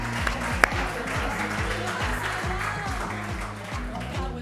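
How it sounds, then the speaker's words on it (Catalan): An audience applauds steadily, a dense wash of clapping hands filling the room, with a voice talking faintly underneath. "aplaudiment per vosaltres"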